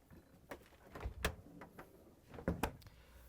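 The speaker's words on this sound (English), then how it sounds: "And now we can close both doors." Both doors of an LG/Kenmore refrigerator being shut during a water inlet valve repair, heard as a few soft, close thuds and clicks spread over a few seconds, fairly quiet overall.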